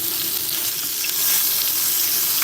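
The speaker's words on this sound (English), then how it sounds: "got a good sear on that one" Meat searing in a hot pan gives a loud, steady, close sizzle that swells slightly partway through, with no talking.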